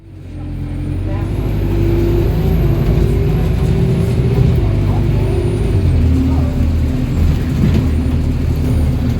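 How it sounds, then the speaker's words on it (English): An Enviro 200 MMC bus on route 424 rumbles loudly from inside, its engine droning steadily with an air-brake hiss and road noise throughout. "So the bus that they usually use on the 424 is an Enviro 200 MMC"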